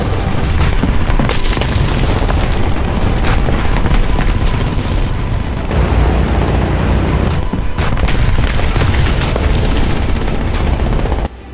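Massive 5,000 to 12,000 pound bombs detonating in the War Thunder combat game, a continuous loud, rumbling roar of blasts and crackling debris with brief gunfire-like bursts, no talking.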